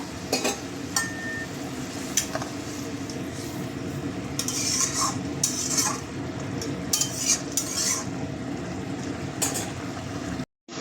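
Fried fish goes into a simmering curry in a pan, followed by a steady bubbling sizzle and intermittent clinks and scrapes of a spoon against the pan, close and fairly loud.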